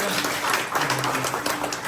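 An audience at a food-offering event claps together in a dense, steady burst of applause, with some voices mixed in.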